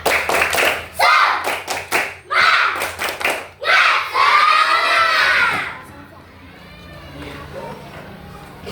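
A classroom of children claps in quick rhythmic bursts that build into a loud flurry, then erupts in shouting and cheering that fades into lingering chatter and squeals.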